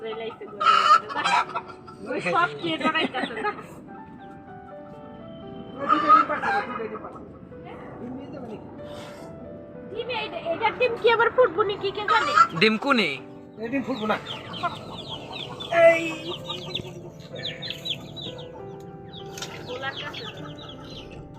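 Hens cluck and squawk in a busy flurry, close by and fairly loud, with people talking over them throughout.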